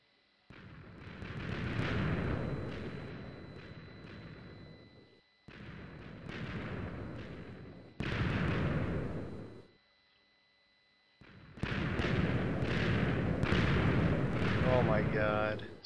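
Giant TNT block detonating in Minecraft, a chain of loud, broad explosion bursts in four long blocks with short gaps, each booming roar swelling and fading, close and heavy.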